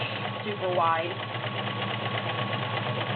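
An all-metal Kenmore 1802 sewing machine with a wide zigzag stitch runs at a steady mechanical hum and chatter. A voice speaks briefly over it near the start.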